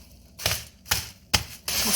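A mallet strikes glass wrapped in a towel to crush it, four dull thuds with a gritty crunch, spaced about half a second apart, close and without talk.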